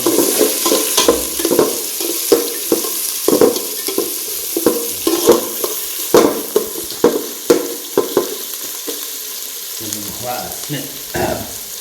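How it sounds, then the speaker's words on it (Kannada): Onions and green chillies frying in a pan, with close, loud scraping stirs over a continuous sizzle and an uneven rhythm of strokes. "ಈರುಳ್ಳಿ ಮತ್ತು ಮೆಣಸಿನ್ಕಾಯಿ ಹಸಿರು ಮೆಣಸಿನಕಾಯಿ ಒಂದು ನಾಲ್ಕು ಹಾಕಂದು ಚೆನ್ನಾಗಿ ಫ್ರೈ ಮಾಡ್ಕೋಬೇಕು"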